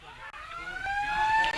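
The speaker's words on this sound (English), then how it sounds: "there's the halftime siren for the Geelong and District Football League match" A halftime siren sounds at Anakie Reserve, a country football ground hosting a Geelong and District Football League match. The tone is steady and rising, quite loud, and holds with a brief break.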